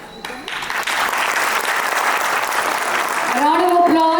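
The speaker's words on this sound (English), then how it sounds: "A round of applause for our dear little Anaya." Audience applause at a school annual day, a burst of crowd clapping that builds quickly and holds steady, with a voice starting to speak over it at the end.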